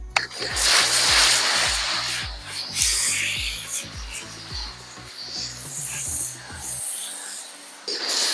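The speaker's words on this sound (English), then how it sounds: "See how long it takes for the power washer to turn off." A power washer motor hums with rhythmic pulsing, then winds down and cuts out near the end, leaving a brief hiss before a short tail of noise.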